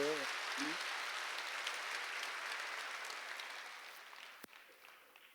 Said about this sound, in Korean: 박수 좀 세게 치세요